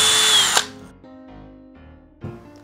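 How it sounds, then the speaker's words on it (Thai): A power drill with a number 4 masonry bit bores into a concrete wall while a large TV mount is installed; a loud, steady whine runs for about half a second, then quieter intermittent drilling bursts follow, with no talking. "แล้วเราจะเริ่มจากดอกสว่านเจาะปูนเบอร์4ก่อนเสมอนะครับ"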